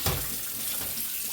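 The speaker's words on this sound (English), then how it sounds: "what we like to do first is rinse our meat first" Eye round roast rinsed under a running kitchen tap, a steady close rush of water splashing over the meat for the whole moment with no talk.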